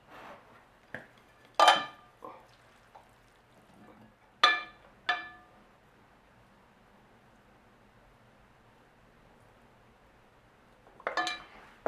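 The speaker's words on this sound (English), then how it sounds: "And then you could plate it in a separate dish." Tomato rice being spooned from a pot into a separate dish, with a few sharp clinks of utensil on crockery spaced apart over quiet room tone, and a brief cluster of clatter near the end.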